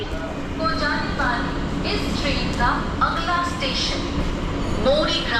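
A train at Satgachhi junction station on the Panskura–Digha line at dawn, with a continuous rumble and rattling, scattered metallic squeals, and someone talking over it.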